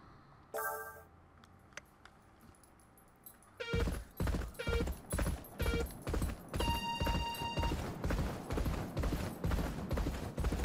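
A racehorse gallops through a workout in a horse racing video game: steady, rapid hoofbeats start after a brief quiet lead-in and pound in an even rhythm, loud and close, with no talking.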